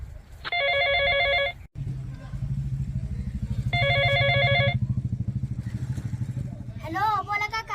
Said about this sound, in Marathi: मी लावतो तात्याला फोन.